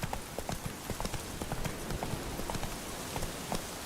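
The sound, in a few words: horse hooves galloping in video game The Witcher 3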